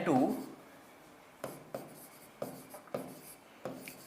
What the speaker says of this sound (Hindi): तो हम लोग डिफिनीशन लिखते हैं